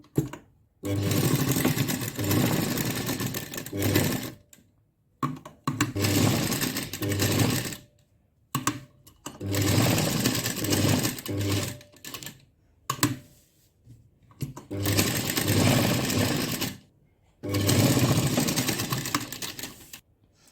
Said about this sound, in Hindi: अब हम इसे ये जो हमने लाइन ली है उसी के ऊपर हम इसे स्टिच करेंगे सबसे पहले